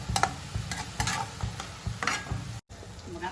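Spinach sizzles and hisses in a hot pan while a spatula scrapes and stirs it in regular strokes, close and moderately loud, with no voices, during home cooking of a dry palak bhaji.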